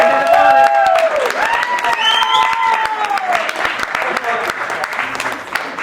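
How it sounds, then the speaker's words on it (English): Wedding guests at a hotel reception clap in sustained applause, with cheers mixed in and music carrying on underneath throughout. "Let's have a warm round of applause, ladies and gentlemen."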